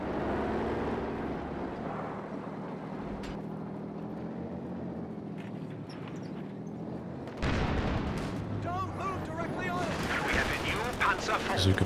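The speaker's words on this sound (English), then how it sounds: "Bazooka bouncing there." Bazooka and other gunfire crack and thump in a Company of Heroes 2 battle, with sharp shots scattered over a rumbling low bed. Heavier, denser bursts with whistling tones come in the second half, and talk sits underneath throughout.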